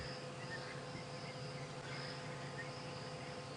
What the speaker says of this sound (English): the gentle buzz of an insect attracted to my spotlight. You can just hear it buzzing around somewhere here.